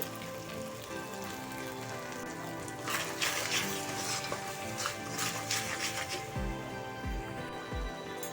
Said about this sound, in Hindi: एबे आम ऐड करबा टमाटो प्यूरी